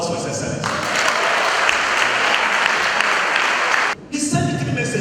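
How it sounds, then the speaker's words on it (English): Loud, sustained applause from members of the House of Assembly in Edo State, a thick roar of clapping that holds for about three seconds before cutting off abruptly, with voices speaking before and after. "the House of Assembly can do a very resounding hand of applause for His Excellency"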